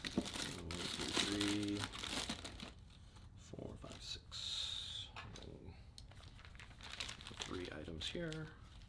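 A plastic bag crinkles and rustles in bursts as Raymarine Evolution autopilot parts are packed into it, close up, with a person talking between the handling sounds.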